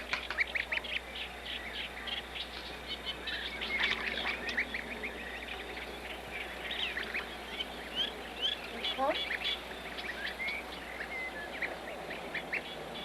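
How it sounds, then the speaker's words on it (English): Goslings imprinted on a human researcher peep and call continually, high thin chirps mixed with soft honking from geese, close and steady over a low background hum, with a quiet voice now and then. "The continual sounds between the researcher and the goslings is a form of reassurance."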